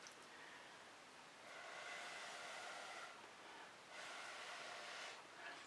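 Breath blown through a straw onto fluid acrylic paint gives a soft, airy hiss in two longer sustained puffs over a faint background, close and quiet, with no speech.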